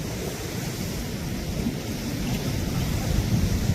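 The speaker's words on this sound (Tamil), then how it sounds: "இதில் வந்து வேகமாக தான் போய்கொண்டிருக்கு தண்ணி" Fast-flowing water rushes steadily through the Iranaimadu reservoir, a loud, dense, continuous roar mixed with wind buffeting the microphone, building slightly toward the end, with no voices.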